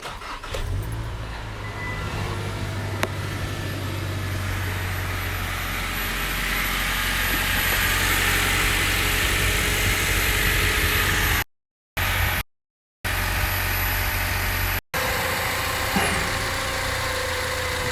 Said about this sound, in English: Now we start up the engine, and we go and check for leaks.